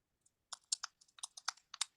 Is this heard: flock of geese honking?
no